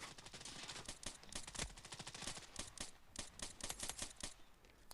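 Rapid automatic gunfire from a CS:GO-style shooter game, with dense bursts of sharp cracks fired in quick succession, pausing briefly before more bursts follow, loud and close throughout.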